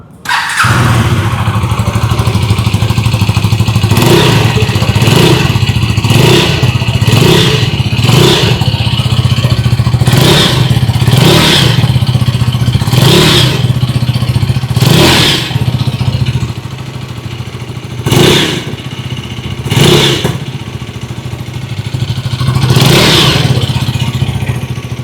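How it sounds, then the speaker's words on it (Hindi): A KTM Duke 250 motorcycle's exhaust rumbles at a steady idle, broken by a series of sharp throttle blips, some in quick succession and then spaced out. Loud and close, with no talking. "ड्यूक 250 की एग्जॉस्ट नोट सुन लेते हैं।"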